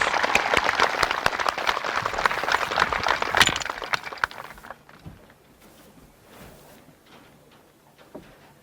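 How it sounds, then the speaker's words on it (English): A graduation crowd at a high school ceremony applauds warmly, dense clapping for about four seconds before dying away into near quiet with a few stray claps. "Please join me in a round of applause for our CHS counselors, faculty, and staff."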